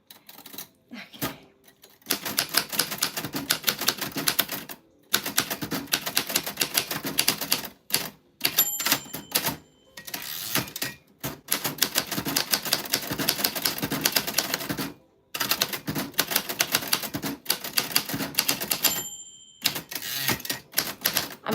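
A mechanical typewriter clacks rapidly and loudly, keys striking in fast bursts broken by short pauses, with occasional carriage bell dings and returns.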